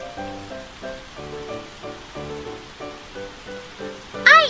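A rain sound effect plays during a children's story reading about a windy, rainy night, with a soft steady patter and rhythmic dripping, ending in a brief brighter chime-like flourish.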